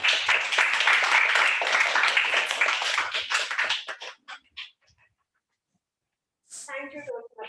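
Audience clapping for a Toastmaster at a club meeting, a dense burst of applause that thins into a few scattered claps and fades to silence, followed by a voice starting to speak.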